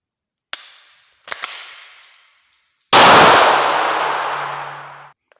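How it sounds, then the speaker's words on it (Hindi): A pistol handled to clear a stoppage: two sharp metallic clicks of the slide racking with short ringing tails, then a loud gunshot that echoes and decays over about two seconds. "स्लाइड को एक दफ़ा सिर्फ पीछे खींचना है, मैगजीन बाहर नहीं निकालनी, सिर्फ स्लाइड को पीछे खींचना है।"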